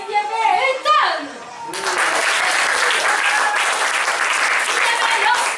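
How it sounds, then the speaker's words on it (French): Audience at a teenagers' improv cabaret breaks into loud, dense applause that fills the room and keeps going, preceded by a brief stretch of voices and chatter. "Je vous demande d'applaudir bien fort."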